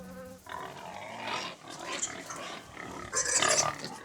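Pigs on a small farm grunt and squeal in several loud bursts. The calls overlap and come and go, with a louder stretch of squealing near the end.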